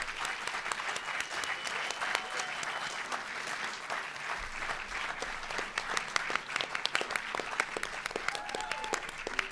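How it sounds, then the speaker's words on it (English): Sustained applause from a debate audience at a UK SGA student government presidential and vice-presidential debate, a dense, even patter of many hands lasting several seconds at moderate volume. "Please join me in a round of applause for our candidates tonight."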